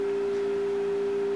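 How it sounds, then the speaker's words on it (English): A steady pure test tone plays through a separate speaker during a cross-modulation test for optical sound film recording, one unbroken sustained pitch holding level for the whole moment with faint hiss beneath. "you still hear the tone because it's coming through a separate speaker"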